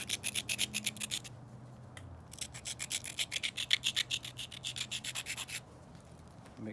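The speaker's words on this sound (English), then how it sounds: "we're gonna grind it" Steady grinding with a rhythmic rasping stroke, repeated many times at an even pace, close and moderately quiet, briefly pausing midway before resuming.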